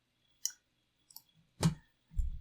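Several sharp, separate clicks spaced out over a couple of seconds while 3D-print settings are being confirmed on a computer, close and fairly quiet, with one louder thump near the end and no talking.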